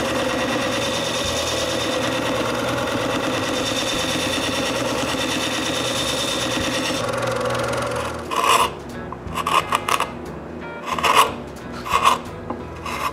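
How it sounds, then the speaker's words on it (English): Steady rasping grind of carving gouges being sharpened on a sharpening station in a woodworking shop, continuous for several seconds, then breaking into short intermittent scraping strokes. "I can also sharpen my carving gouges."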